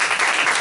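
A brief, loud burst of audience applause at a talk about Muhammad Farms, a dense wash of clapping lasting under a second.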